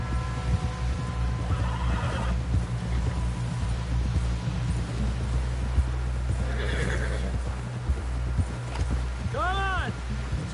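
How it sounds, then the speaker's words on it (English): A horse in a video game clip-clops at a steady pace from start to end. A low rumble runs under the hooves, and near the end the horse gives a short, clear whinny. "Someone help John down off this horse."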